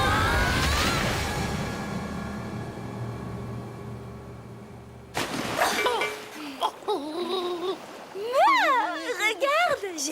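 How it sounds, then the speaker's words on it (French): Cartoon ocean waves splash and rush in a dense, steady burst for about five seconds, then cut off abruptly as animated characters start talking and exclaiming. "On dirait que le bruit vient des vagues."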